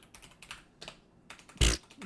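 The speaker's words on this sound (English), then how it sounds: "I'm gonna type that in." Keys tapped on a computer keyboard with a faulty D key, a handful of light clicks in an irregular rhythm close by, ending in one louder clack.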